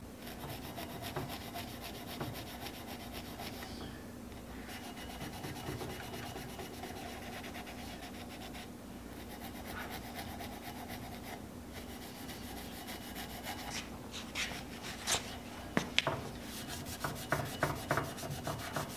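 Scotch-Brite pad with D40 cleaner scrubbing a part for a 1975 Hardinge HC chucker lathe, a steady rubbing and scouring texture that runs throughout, with sharper bursts of scrubbing toward the end and no talk.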